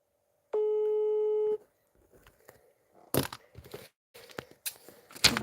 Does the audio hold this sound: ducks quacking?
no